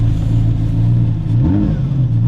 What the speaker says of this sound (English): Start it up. The process, you turn the key, the ignition